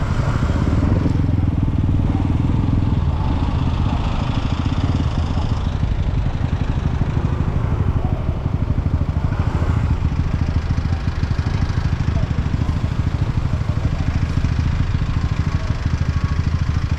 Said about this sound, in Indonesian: Nah ini motor semua.